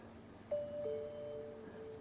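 A soft two-tone electronic Ring doorbell notification chime sounds once, a higher note followed by a lower one, faint against a quiet background hum.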